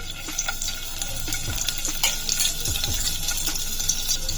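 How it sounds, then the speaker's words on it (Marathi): Garlic fries in hot oil as tempering for a dry fish curry, giving a steady close sizzle with scraping stir strokes and light clinks of utensil against pan throughout, no talking. "आणि चांगले लाल व्हायचं भाजून घ्यायची तेलात"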